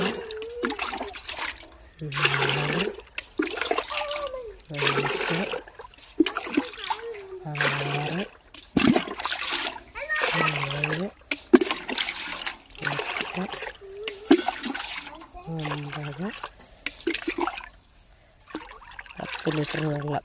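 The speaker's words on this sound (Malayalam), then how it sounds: "10 ലിറ്റർ വെള്ളവും കൂടെ ഒഴിക്കുന്നുണ്ട്." Water is poured in repeated splashing bursts into a container to dilute a homemade plant fertilizer mix, up close and fairly loud, while someone talks over and between the pours.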